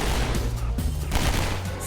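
Video game gunfire: a loud, dense fusillade of overlapping shots fills the whole short burst, sounding like rapid automatic fire.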